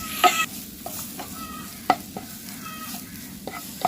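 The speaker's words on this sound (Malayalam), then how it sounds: "ഇനി ഇതൊന്ന് നന്നായിട്ടൊന്ന് മിക്സ് ചെയ്ത് കൊടുക്കാം." A spatula stirs a chicken masala mixture with garam masala in a pan, giving soft scraping strokes and sharp taps against the metal at irregular intervals over a low, steady sizzle, close by with no talking.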